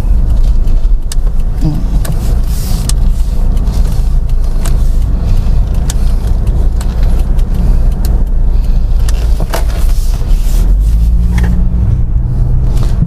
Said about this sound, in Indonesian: sekarang kita cobain lagi keluar